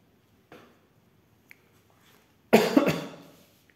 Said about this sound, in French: Désolé, je tousse